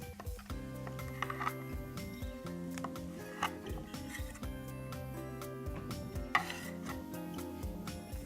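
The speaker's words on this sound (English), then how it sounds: "I'm going to roughly chop my potatoes, and I like to keep the skin on." Unpeeled potatoes are roughly chopped with a knife on a board, giving irregular dull knocks and thuds over steady background music, with no voices.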